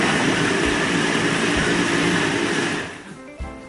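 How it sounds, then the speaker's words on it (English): A blender pureeing simmered marinara sauce whirs loudly and steadily, a dense roar that winds down and fades out near the end. "So this is the blender that I'm going to use."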